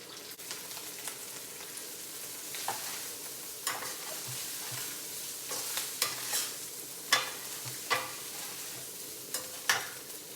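Rice being stirred and tossed in a hot pan for shrimp fried rice, a steady soft sizzle under a series of spatula scrapes and clacks that grow more frequent toward the end, with no talking.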